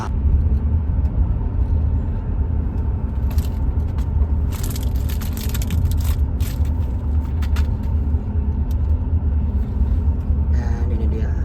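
A Hino RK sleeper bus engine rumbles steadily while riding, a deep continuous low drone with road noise and occasional hissing and rattling from the cabin, with faint voices underneath.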